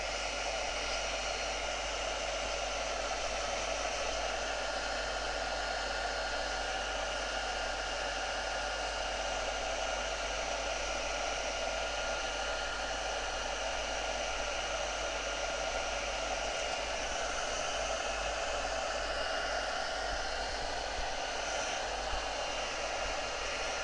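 Hair dryer blowing on wet Brusho watercolour paint, a constant close airy roar with a low motor hum, unchanging for the whole stretch, no speech.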